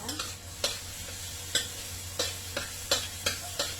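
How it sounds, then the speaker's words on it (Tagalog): Minced garlic and ginger sizzle in a pan while a utensil stirs them, giving a steady soft hiss broken by about eight sharp scraping strokes at an even rhythm. "Igigisa lang natin siya."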